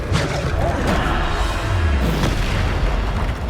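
Bombarda spell blasts from the Hogwarts Legacy video game make a dense, continuous rumbling boom that fills the whole moment with crashing, explosive noise and no quiet gaps.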